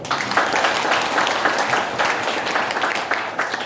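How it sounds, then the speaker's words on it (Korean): Applause from a congregation at a church service held to mark a relocation, a steady dense wash of clapping throughout, close and fairly loud, with a faint murmur of voices mixed in. "우리 한번 다시 한번 축하의 박수 한번 드릴까요?"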